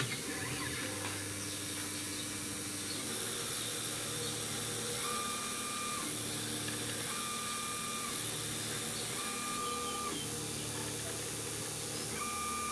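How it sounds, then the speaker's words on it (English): A DIY mini CNC machine runs at low spindle speed cutting soft balsa wood, a loud, steady motorized whine with repeating rising and falling stepper-motor tones in regular passes, close and continuous with no talking. "I'm going to try a cut, very, very simple cut into balsa."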